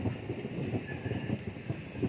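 Thunder rumbling during evening rain at an outdoor cooking spot, a low continuous roll under the steady hiss of rainfall, with no voices.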